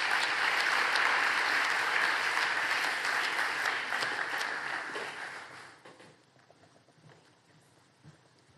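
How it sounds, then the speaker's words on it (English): Audience applause for a 2025 community advocacy award winner, a dense sustained clapping crowd that fades out over the last few seconds, leaving faint room noise. "Let's give a round of applause to our winner in this category, Joy Mayo."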